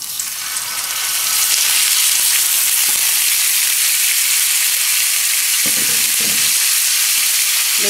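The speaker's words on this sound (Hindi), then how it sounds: "ऑयल डालने के बाद आपने इसमें अपना मिन्स ऐड कर लेना है।" Minced meat frying in oil on a hot tawa for keema, a loud, dense, steady sizzle that swells after the first second and carries on close up, with a few soft stirring knocks near the end.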